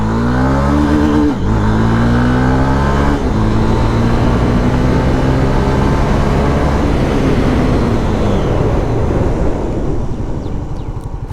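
A Honda motorcycle accelerating hard during a performance test, its loud engine revving up through rising gear pulls with a gear shift, and wind buffeting the microphone, fading slightly at the end.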